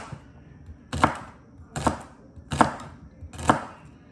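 Knife chopping celery and mushrooms on a cutting board, four distinct crisp cuts in a steady rhythm, close and clear with a quiet background.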